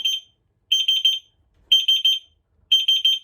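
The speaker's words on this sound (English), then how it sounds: "it'll continuously sound that alarm" A damp detector alarm on a boat gives off sharp, high-pitched electronic beeps in quick bursts of four or five, repeating about once a second, loud and clear against silence.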